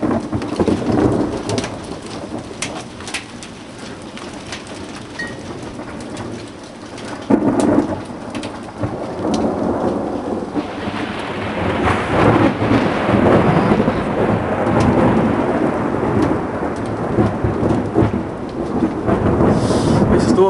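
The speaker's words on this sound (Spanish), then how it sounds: "Es como granizo, güey." Thunderstorm with hail at Deane Court in May 2009: heavy rain and hail drum steadily while thunder rumbles and cracks close by, building louder through the second half, with no talking.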